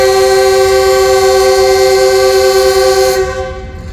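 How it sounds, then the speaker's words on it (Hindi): A Jaffar Express train sounds its departure whistle at Lahore railway station, one loud, sustained, steady blast of about three seconds that cuts off abruptly, leaving quieter station ambience. "जाफर एक्सप्रेस का डिपार्चर विसल हो चुका है, वो भी रवाना होने वाली है"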